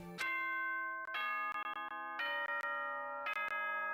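The school chime in the video game Danganronpa plays as four bright bell-like tones in a descending-then-rising pattern, each ringing out and decaying, clear and alone with no voices.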